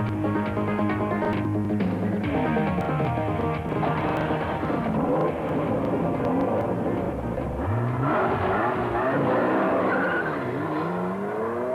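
Ferrari 288 GTO with a 2.8-litre twin-turbo V8, loud and close, its engine note rising and falling through repeated revs and gear changes along with some tyre squeal.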